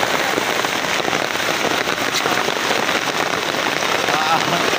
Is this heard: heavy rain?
yes